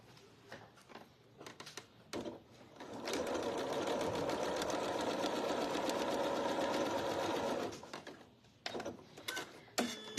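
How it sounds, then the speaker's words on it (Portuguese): Sewing machine stitching fabric for a panettone basket, starting with a few short stitch bursts and then running in one steady, fast whirring stretch of about five seconds before stopping, close and moderately quiet, followed by faint handling noises. "Vou cortar costurar um pedacinho aqui, ó."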